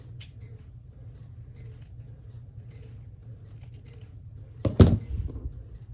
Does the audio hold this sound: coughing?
no